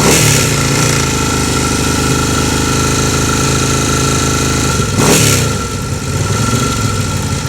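A 1975 Moto Morini 3-1/2 motorcycle engine runs loud and close, a steady throbbing idle with a brief sharp rev burst just after the midpoint before settling back to a rumbling idle.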